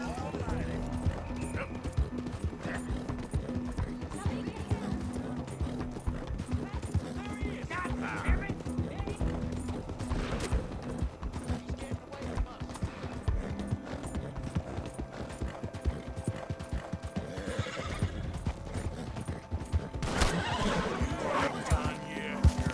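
In Red Dead Redemption 2, a horse gallops with rapid rhythmic hoofbeats and neighs now and then amid game noise, while players talk excitedly over it.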